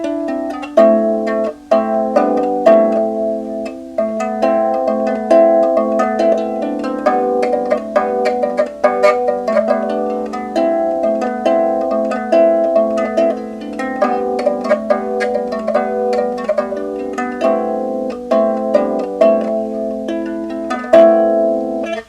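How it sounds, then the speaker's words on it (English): A Leiden lyre plays a soft, steady melody with ringing plucked tones, close and clear, with no voices. "So that's how it sounds on the Leiden lyre"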